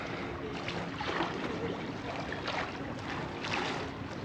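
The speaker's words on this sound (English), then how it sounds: "Just listen to that water." River water in Faro, Portugal, with floating wood, makes a faint, steady rushing flow with soft splashy surges, heard alone without speech.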